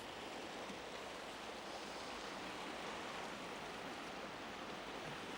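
River water rushes steadily and close while mud is washed off during gold panning, a dense, even wash of flowing water with no break and no talk.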